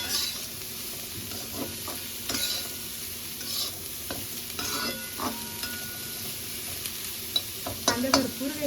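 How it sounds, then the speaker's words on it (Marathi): Onions roast in a pan for a mutton masala, a steady low sizzle under repeated stirring scrapes and occasional spoon knocks against the pan, growing busier toward the end. "कांदा चांगला भाजला पाहिजे म्हणजे मसाला चांगला होतो"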